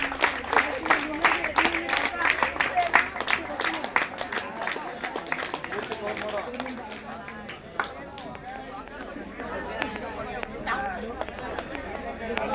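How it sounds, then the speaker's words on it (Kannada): At a school prize ceremony, the closing function of a student association in Hebbale, a crowd breaks into loud, dense applause that gradually thins. Voices and general chatter mix in throughout. "ಜೋರಾಗಿ ಚಪ್ಪಾಳೆ."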